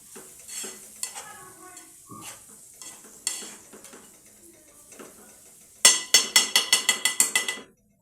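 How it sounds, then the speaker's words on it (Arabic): Onion and garlic with cumin fry in a pan, stirred with scattered scrapes and clinks. They end in a quick run of sharp, rhythmic metal taps against the pan. "صافي غنخليه يتقلى مزيان."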